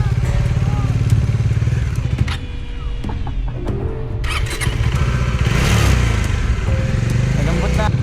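Off-road-tired motorcycle riding down into soft sand on the way to a beach campsite, its engine a steady close rumble throughout, rising and straining near the end, with tire squeals and brief thumps as it churns through.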